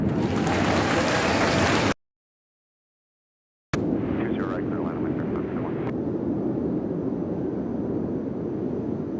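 An airplane at Nashville International Airport on runway 20 left during takeoff clearance, a steady broad engine roar that cuts out briefly to silence and then resumes, holding a constant, fairly distant rumble.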